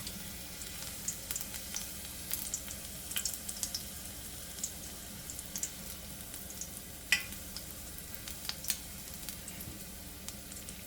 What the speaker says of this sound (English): So I'm heating my oil on medium to high temperature, and I'm adding some garlic